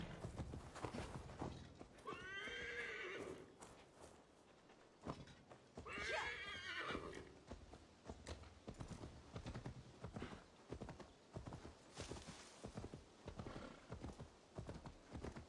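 Horse hooves clip-clop steadily in Assassin's Creed Valhalla, with two loud neighs early on and faint keyboard tapping in the background.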